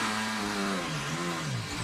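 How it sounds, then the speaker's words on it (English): Sergio Perez's Formula 1 car engine during a safety car restart at the Qatar Grand Prix, a high, harmonic engine note that wavers and shifts pitch up and down, heard close and steady, with no voices. "This is the sound of Sergio Perez, and he lost it before they'd even restarted under safety car."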